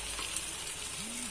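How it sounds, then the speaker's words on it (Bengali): Spice paste for a pangas fish curry fries in a pan with a steady, close crackling sizzle, and a brief faint tone rises near the end. "পাঙ্গাস মাছের মশলাটাও কষিয়ে নিলাম"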